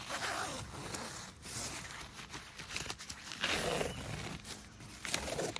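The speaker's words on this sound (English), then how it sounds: "And you unzip it" A zipper being opened on the stove jack of a POMOLY Dome X6 Pro four-season hot tent, several close, rasping pulls with pauses and handling rustle between them.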